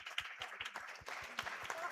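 A small group of quiz players clapping during a game, a loose run of close, uneven claps lasting a couple of seconds at fairly low level, with some faint chatter mixed in.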